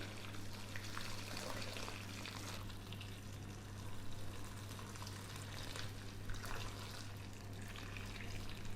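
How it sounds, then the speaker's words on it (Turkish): Hot water from a kettle poured over spinach roots in a bowl, a steady, close rushing splash that runs on without a break and with no voices. "Sadece üzerine böyle kettle'da kaynattığım sıcak su ilave ediyorum."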